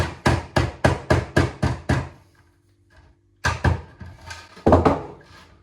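A hammer strikes in a rapid run of about seven even blows while a squirrel feeder is built, then falls quiet, and after a pause a few more scattered knocks follow, close and sharp.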